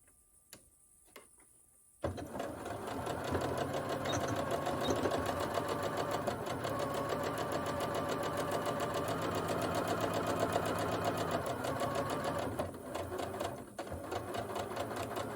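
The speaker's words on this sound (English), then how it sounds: "It's good to back tack over the top and the bottom, particularly the bottom" A sewing machine back tacks the seam of an unlined drawstring gift bag, starting after two soft clicks and then running as a steady, close, continuous mechanical whir with fast rhythmic stitching until the end.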